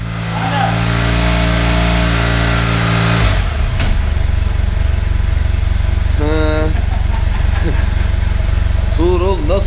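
A BMW F800GS motorcycle engine runs steadily nearby, loud and rumbling throughout, while people talk over it.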